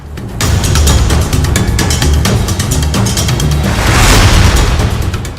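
Celebratory gunfire at a wedding in Bihar cracks out in a rapid, loud burst of repeated shots that carries on for several seconds, dense and close, with no voices heard.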